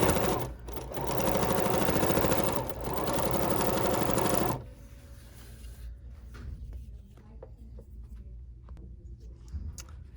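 A BERNINA sewing machine fitted with a binder attachment runs in a steady, loud stitching burst for about four seconds, then stops, leaving quieter handling clicks and small fabric-shuffling sounds.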